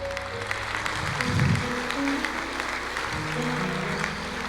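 A church congregation claps steadily throughout, a continuous wash of applause with a faint voice underneath.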